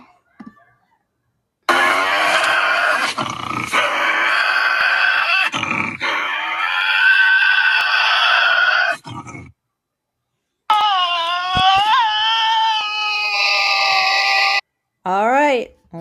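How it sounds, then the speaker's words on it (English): Tasmanian devil calls, a guessing-game animal sound: harsh, loud growling screeches and grunting wails in several long bursts separated by brief silences, ending with a rising whine. "Yes, it was a Tasmanian devil."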